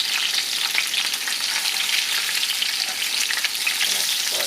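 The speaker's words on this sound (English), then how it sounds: "It is going to sizzle, so watch out." Chicken quarters, freshly flipped and golden, fry in hot oil with a loud, steady crackling sizzle that stays dense and even from start to finish, with no voices over it.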